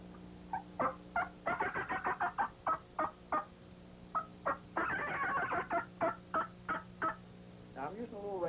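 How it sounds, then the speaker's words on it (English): A raspy friction turkey call, played by hand, runs a fast cackle: a couple of yelps, then a quick run of sharp staccato clucks in bursts, close and clear, with no talking over it. "Now, the cackle call."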